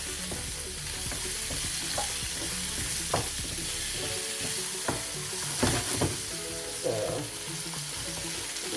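Small sweet peppers fry and sizzle in a pan with a steady hiss, broken by occasional stirring scrapes and clinks close by; no one speaks.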